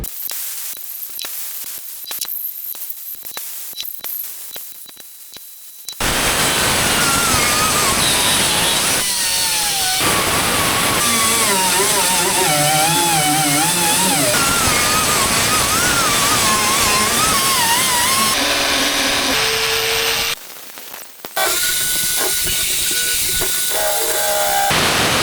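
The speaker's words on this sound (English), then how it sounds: "Now I'm gonna come in and do the finer detailed work, getting all these welds knocked down with my sanding discs." Sanding discs grinding down welds on the replaced driver's floor of a 1993 Ford F-350 truck, a loud, harsh whine with wavering pitch that starts abruptly after quieter crackling, stops briefly, then resumes.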